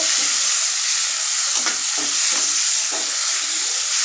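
Tomatoes frying in a pan while being stirred, with a loud, constant close-up sizzle and soft periodic scraping strokes of the spoon, no voices.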